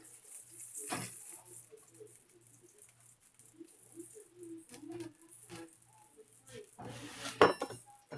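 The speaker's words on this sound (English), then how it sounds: "now I transfer them to my pan over here" Blue cheese-crusted pork chops moved into a pan, with scattered clinks and rattles of pans and utensils, a louder clatter near the end, over a quiet steady hum.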